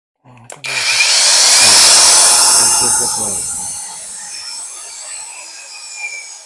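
A DELIXI cordless angle grinder spins up after a couple of clicks, whining loudly and steadily before slowly winding down as it coasts to a stop, close and alone.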